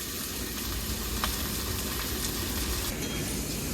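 Mutton and potatoes fry in a pan for Bengali-style mutton kosha, giving a steady dense sizzle close by with a few faint scrapes of stirring.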